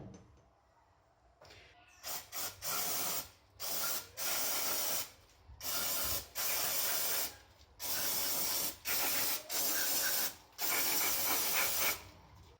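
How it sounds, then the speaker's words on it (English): Brake cleaner sprayed in repeated bursts over a stripped 3SGTE engine block from a Celica GT-Four teardown, each loud hissing spray lasting about a second with short gaps, close and with no talking. "I've just given it a quick spray with brake cleaner so we can get an accurate idea of the condition."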